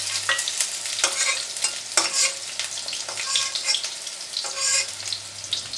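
Small-cut eggplant pieces fry in hot oil with a bright steady sizzle, broken by occasional stirring scrapes, heard up close with a faint hum underneath.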